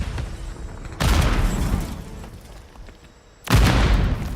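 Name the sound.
Semtex grenade exploding in a first-person shooter video game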